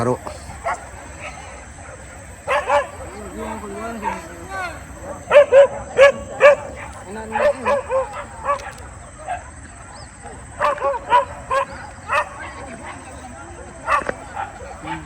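Dogs barking outdoors during a hunt, several sharp repeated bark bursts in clusters, mid-distance, mixed with people talking throughout.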